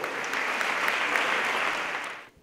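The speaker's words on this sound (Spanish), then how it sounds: "¡Fuerte el aplauso!" An audience applauds steadily as a speaker is welcomed at a business talk, a dense even wash of clapping that fades out at the end.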